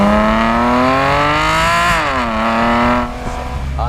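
A Porsche 911 Carrera 4S of the 997 generation, with a 3.8-liter naturally aspirated flat-six, revs loudly and close by. The pitch climbs steadily, drops briefly, then rises again, and no one speaks.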